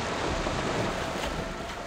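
A ghost boat rising out of the water in Fable Anniversary brings a steady wash of surf and churning water, with a broad, constant roar and no voices.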